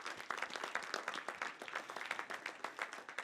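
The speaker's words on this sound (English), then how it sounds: "I would also like to give her a round of applause" An audience at a wrap-up event gives a round of applause: a dense, steady patter of many hands clapping, fairly faint and distant, with no voices over it.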